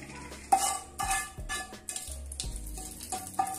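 Hot oil tempering crackles and sizzles in short bursts as it is poured into a black chickpea chutney, with metal spoon scrapes and clinks against a pan.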